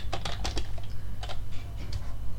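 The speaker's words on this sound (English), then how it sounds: "Type your password, then you're in." Password typed on a computer keyboard: quick bursts of close, crisp key clicks over a low steady hum, with short pauses between bursts and no talking.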